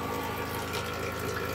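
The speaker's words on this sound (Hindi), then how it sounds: "ये बॉटल भर रहा है" Water pours from a dispenser into a bottle, a steady close rushing gush with a faint pump-like hum beneath it and no breaks.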